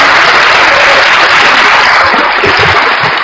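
Loud, close applause from a crowd, a dense rush of clapping that stays steady for a few seconds and thins slightly near the end.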